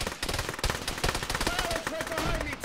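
Rapid automatic gunfire in a military video game, loud dense bursts of shots fired in quick succession over a few seconds, with a faint voice in the background.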